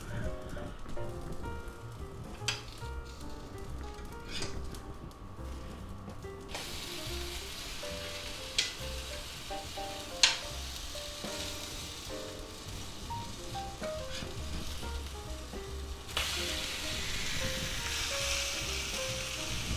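French toast with sausage, green onions and cheese cooking in a covered cast iron skillet gives a steady soft sizzle and frying hiss throughout, with a few brief clinks and a brighter hiss toward the end.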